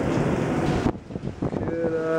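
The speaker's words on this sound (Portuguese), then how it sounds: "Isto está bué da vento" Strong wind buffets an outdoor microphone in a heavy, roaring rush that cuts off abruptly partway, then gives way to softer gusts and brief murmured voices.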